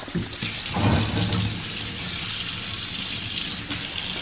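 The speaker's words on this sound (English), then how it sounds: "what I'm gonna do is just rinse each and every lobster" Tap water runs into a kitchen sink as fresh lobsters are rinsed one by one. There is a steady, close rush of water that swells briefly near the start, with no talking.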